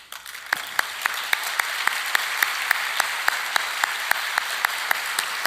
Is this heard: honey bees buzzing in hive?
no